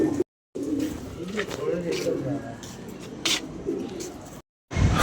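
Pigeons coo steadily throughout, close by, with a loud voice talking over them and a couple of brief gaps near the start and end.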